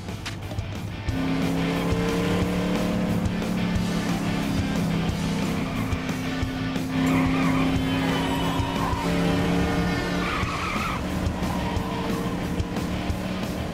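A car driven in LEGO City Undercover, with a steady engine drone and long sustained tire squeals as it skids through turns, loud and continuous from start to finish.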